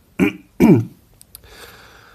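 Two close, throaty coughs in quick succession, followed by a couple of small clicks and quiet background.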